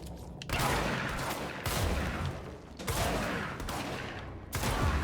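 Gunfire from the video game Control comes in long, loud, sustained bursts of rapid automatic shots, with brief breaks between volleys and no talk over it.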